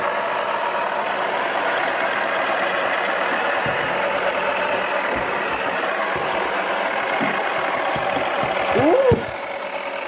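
A toy washing machine runs with a steady, loud whirring drone that holds evenly throughout, ending with a brief squeaky rise and a slight drop in level.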